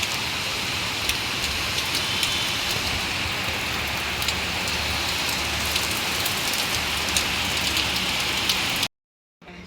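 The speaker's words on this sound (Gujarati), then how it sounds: "જુઓ તમે કેવો ફૂલ વરસાદ આવે છે." Heavy rain pours down in a dense, steady roar of drops on surfaces, loud and unbroken until it cuts off abruptly near the end.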